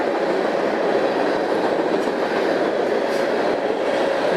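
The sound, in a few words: freight train with boxcars passing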